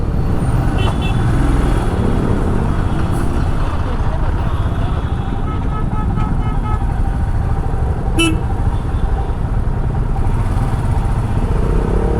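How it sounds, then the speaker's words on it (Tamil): Heavy road traffic on a motorcycle ride near the Hosur bypass, a loud continuous roar of engines and wind with horn toots cutting through, close and constant. "செம்ம டிராஃபிக்காக இருக்குது"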